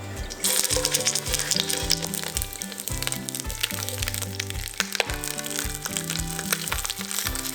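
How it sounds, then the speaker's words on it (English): Pork belly searing in hot oil in a pan, a steady crackling sizzle with sharp pops, heard under music. "Sear the pork belly until it has a crusty golden brown color to all the sides."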